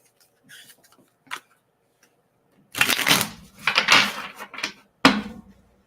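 A deck of oracle cards shuffled by hand in a quiet room, with a few soft taps followed by two dense bursts of riffling and a final short shuffle, close and crisp.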